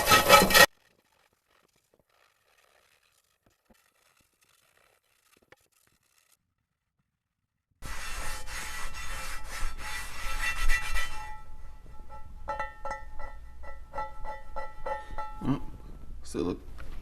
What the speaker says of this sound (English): use the scrubbing pad to scrub this pan